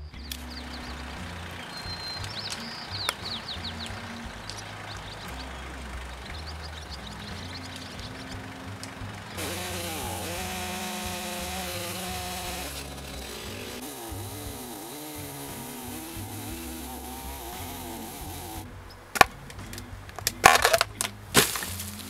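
A chainsaw runs at a distance as a big leaf maple is cut, its whine rising and falling over a long stretch, then crackling and heavy crashing thuds as the tree comes down.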